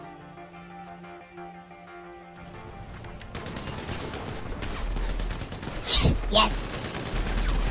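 A GTA5 deathmatch battle: after a quieter stretch, rapid bursts of gunfire and heavy shots break out, with several loud blasts near the middle, while players talk over the shooting.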